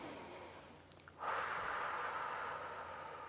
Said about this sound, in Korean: 코로 천천히 숨을 들이쉬고 내쉬고